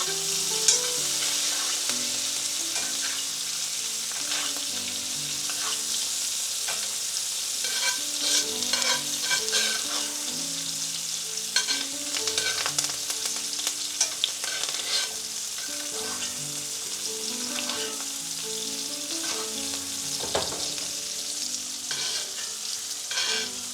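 Stir fry sizzling in a hot wok, steady crackling frying with repeated scraping and stirring strokes throughout, close and loud with no talk.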